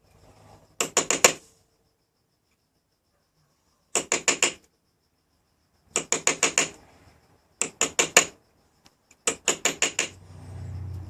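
Light metallic tapping of a small hammer on a chisel in five short bursts of four or five quick taps each, separated by pauses, with quiet in between.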